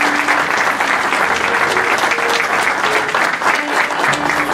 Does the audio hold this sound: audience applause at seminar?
yes